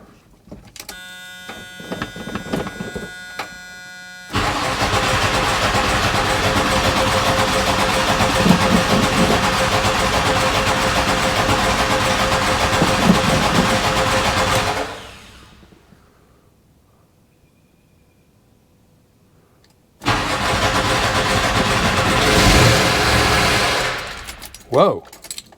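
A gasoline engine being cranked over by its starter and trying to catch, a loud sustained grinding churn with sputtering, stopping abruptly, then cranking again after a short silence, with brief talk near the start.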